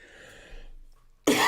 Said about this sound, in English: Still got a good cough going on.